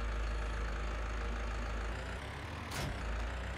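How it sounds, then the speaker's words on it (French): A tractor or truck engine in Farming Simulator 19 runs at a steady low idle, a continuous heavy rumble with a short hissing burst near the end. "Oui, je démarre le moteur"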